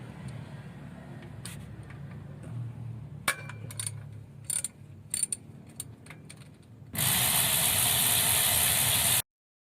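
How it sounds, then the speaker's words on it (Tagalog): Power tool whirring intermittently while oil pan bolts come off a Peugeot 307, with short sharp bursts and clanks over a low hum, ending in a loud sustained broadband roar. "So we're going to remove the bolts."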